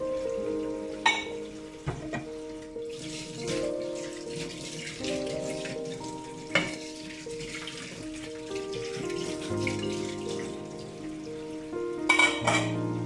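Dishes and utensils washed at a sink under a running tap: steady splashing water with clinks and clatters of plates and cutlery, close by and with no talking.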